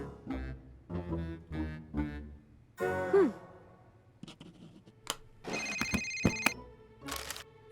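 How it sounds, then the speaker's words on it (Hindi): A phone ringtone rings out in a library in an animated cartoon, bursting in with bright repeating electronic tones after sighs and vocal sounds from the characters. "ये किसका फोन है?"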